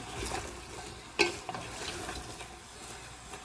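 Onions and mushrooms cook down in a pot over medium-low heat for French onion soup, with a soft steady sizzle broken by a sharp clink and scrape of stirring about a third of the way through.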